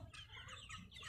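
Hen crowing once in a faint, brief, strained call from inside a farm coop, alone with no talking.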